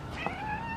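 A cat being carried up into a tree gives a single short, soft meow, close by against low background noise.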